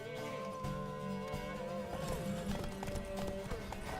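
Horse hooves clip-clop in a Witcher 3: Wild Hunt game scene, a steady, fairly loud rhythmic trotting under background music and game sounds.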